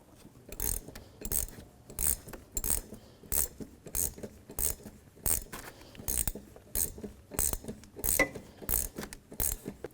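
A wrench snugs down the locking nut on a 1997–2001 Jeep Cherokee front shock absorber, giving a steady series of sharp metallic ratcheting clicks, close and moderately loud, repeating in quick bursts without any talking.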